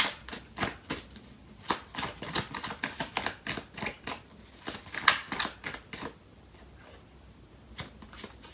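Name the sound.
shuffling tarot cards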